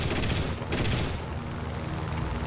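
Cannon fire from a Yak-9T aircraft in the War Thunder video game, heard as a loud, dense burst of rapid shots over a steady engine roar, with the firing thinning out after about a second.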